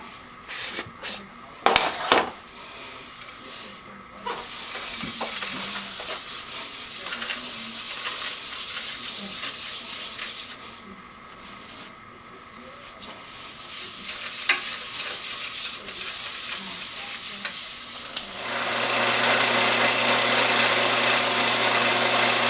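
Yorkshire Grit abrasive paste pressed against a spinning hackberry bowl on a woodturning lathe gives a steady, close hiss and rub over the lathe's hum, with a few sharp knocks early on and a louder, fuller whir near the end.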